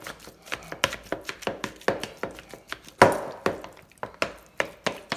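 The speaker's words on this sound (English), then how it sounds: "What you're doing here, you're just breaking the sweet potato down some." Cooked sweet potato is mashed in a bowl with a steady run of close, dull thuds and knocks, roughly three per second, and one harder hit partway through.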